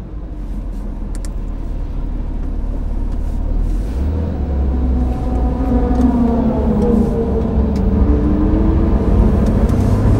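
A modified Porsche GT3 pulls out of the pits onto the track, its engine a steady loud drone with rising harmonics as it accelerates through the gears, heard from close by over continuous road and wind noise.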